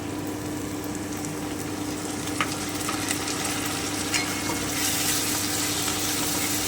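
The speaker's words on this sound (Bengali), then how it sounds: "আমার কিন্তু পেঁয়াজটা ভাজা হয়ে গেল এবারে আমি আলুটা দিয়ে দিচ্ছি" Potatoes added to fried onions sizzling in a pan for a fish chorchori, a continuous loud hiss with occasional light clicks of stirring, close and steady without talk.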